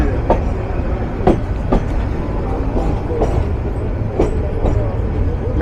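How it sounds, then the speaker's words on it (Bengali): Turag Commuter train pulling into Dhaka Airport station in Bangladesh, a steady loud rolling rumble broken by sharp wheel clacks and knocks at irregular intervals. "ঢাকা স্টেশন থেকে 17 কিলোমিটার যাত্রাপথ চলা সম্পূর্ণ করে তুরাগ কমিউটার প্রবেশ করলো যাত্রা বিরতির চতুর্থ"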